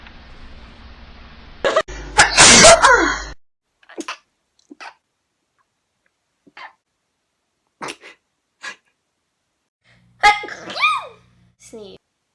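A person who has been sick all week sneezes once loudly and forcefully, followed by scattered short faint sounds, sniffs and brief vocal noises, then another burst of sneezing near the end.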